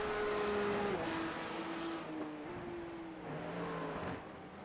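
A Porsche Cup race car engine at Aragon, its tires overheated after a big slide, drones at steady low revs while the driver tries to fire it back up, the pitch stepping down and shifting slightly.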